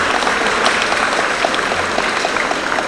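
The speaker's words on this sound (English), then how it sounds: "May I request you all to welcome him with a big round of applause." Loud, continuous applause from a university audience at an International Day event welcoming the chief guest, steady clapping throughout with a few sharper individual claps.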